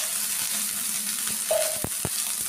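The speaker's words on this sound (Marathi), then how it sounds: "उभे चिरलेले मी त्याला पण चांगलं ब्राऊन होईपर्यंत भाजते. थोडंसं तेल टाकून घेऊया भाजायच्या पुरतं." Sliced onions fry steadily in a little oil, browning in a pan, with a continuous close sizzle and a few brief utensil clinks partway through.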